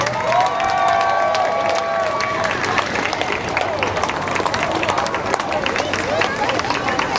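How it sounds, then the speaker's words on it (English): A crowd at a Hersheypark hot dog eating contest claps and cheers loudly and continuously for the contestants, with shouts and voices mixed into the dense applause. "How about a round of applause for all our contestants?"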